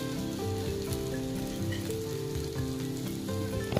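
Ginger, garlic and poppy seeds fry in hot oil in a pan for a prawn curry, giving a close, steady crackling sizzle with faint clinks and no speech.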